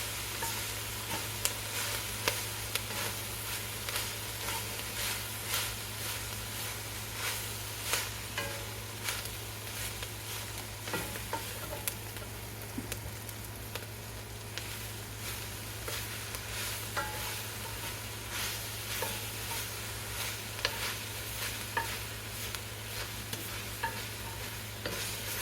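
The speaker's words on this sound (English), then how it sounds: "Now we're going to stir" Kale being stirred and coated with seasoning in a hot pan, a continuous sizzle with repeated scraping and clicking stir strokes, steady and close, with a low hum underneath.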